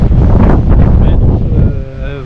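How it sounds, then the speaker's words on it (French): A mild southerly wind buffets the microphone outdoors, making a loud, steady low rumble with gusts that ease slightly near the end, where a faint tonal hum appears. "il vente un peu"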